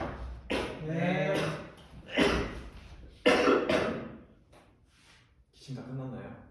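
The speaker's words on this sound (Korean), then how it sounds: "기침 다 끝났나요?" Several coughs and throat-clearing sounds break out in a classroom in short separate bursts, fairly close and moderately loud, spaced by brief quiet gaps.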